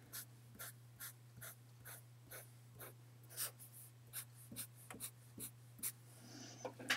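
Pen scratching hash marks onto paper, about a dozen short separate strokes spaced unevenly with small pauses, close and fairly quiet over a steady low electrical hum.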